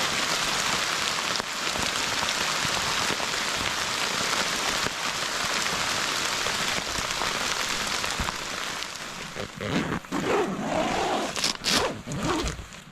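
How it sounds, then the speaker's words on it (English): Torrential rain pounds steadily on a OneTigris Scaena tent during a strong storm, a dense, loud, continuous roar for most of the clip, easing slightly near the end into patchier drumming with a few sharper drips and rustles. "This is the definition of torrential rainfall."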